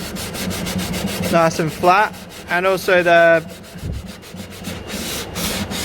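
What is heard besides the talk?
sanding a wooden edge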